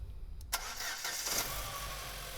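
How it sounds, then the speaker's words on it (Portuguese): A car whose ignition system is under test cranks briefly and catches, then settles into a steady, close idle. "Pode ligar o veículo."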